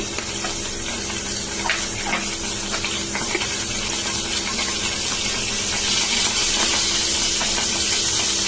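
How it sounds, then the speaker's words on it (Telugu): Mustard seeds sputter in hot oil in a pan for a fried leafy-greens dish, a loud, continuous close-up hiss with faint scattered pops running throughout. "ఆవాలు కూడా బాగా మరిగి సౌండ్ కూడా వస్తున్నాయి"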